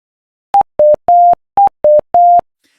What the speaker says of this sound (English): After hearing the confirmation sound, your band stack is ready